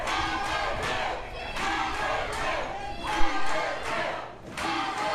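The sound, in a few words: wrestling crowd cheering, mixed reactions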